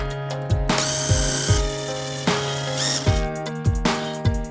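A hand ratchet with a 9/16 socket backing out a shipping bolt from the back of a front-load washer, a run of loud close clicks in a steady rhythm, alone with no talk.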